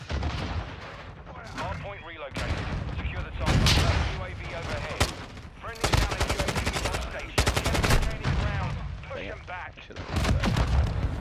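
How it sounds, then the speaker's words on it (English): Rapid gunfire and explosions in a first-person shooter on the Shipment map, with loud bursts of automatic fire and booming blasts throughout, while players talk over the action. "I'm just shooting"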